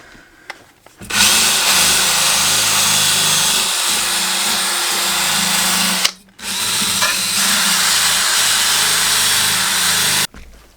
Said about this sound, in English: we'll wire wheel this first one for you